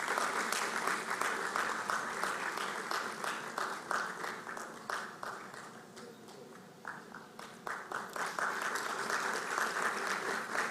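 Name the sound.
applause for a speaker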